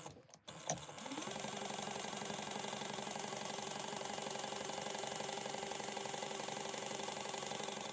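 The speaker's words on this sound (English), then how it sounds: "we are going to sew this at a 3/8 inch seam allowance" Sewing machine stitching a 3/8 inch seam on a convertible sling backpack, starting after a few brief knocks and then running in a fast, steady, continuous whir, close and alone.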